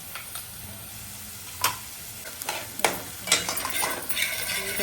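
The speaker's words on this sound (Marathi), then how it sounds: "कांदा असं परतून घ्यायचं आहे" Onion sautéing in a pan for a crab curry, a soft sizzle with spatula scrapes and stirring clatter that grows busier toward the end, close and without talk.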